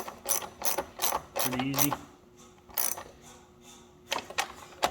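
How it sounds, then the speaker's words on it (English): A 1/4-inch ratchet snugs bolts on a Can-Am Outlander shifter bracket, clicking in quick close bursts of ratcheting with short pauses between them, while someone speaks briefly. "we always do it with a ratchet, not an impact. And you notice he's using the 1/4" ratchet"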